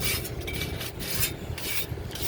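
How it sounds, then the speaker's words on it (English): A very stiff bristle brush scrubs loose rust off a frozen brake caliper and rotor on a Hyundai Sonata front brake job, giving a steady close rasping rub with short pauses between strokes. "It's a very stiff bristle brush. You don't got to rub it too hard or too fast or too much."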